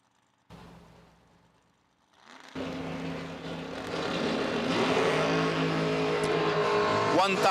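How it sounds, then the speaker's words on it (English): Drag race cars launch at a drag strip event, one of them a Camaro, their engines roaring loud and building steadily after a brief quieter start, with a crowd and announcer faintly beneath. "Jason Lynch, 564 in the Fuel Factory Camaro in the right lane."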